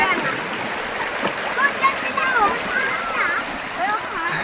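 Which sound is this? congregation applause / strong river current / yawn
strong river current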